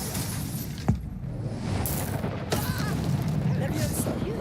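Incendio and Confringo spells cast in Hogwarts Legacy, a sharp magical crack and burst followed by another bright whooshing blast, over a constant game background with faint voices.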